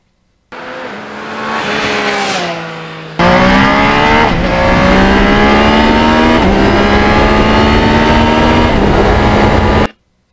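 An older Kawasaki Ninja motorcycle fitted with a Muzzy muffler revs loudly up close, first a rising rev, then a sustained high-pitched engine wail with wavering pitch, cutting off abruptly.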